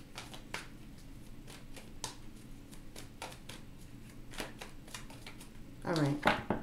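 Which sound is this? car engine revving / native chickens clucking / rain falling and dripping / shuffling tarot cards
shuffling tarot cards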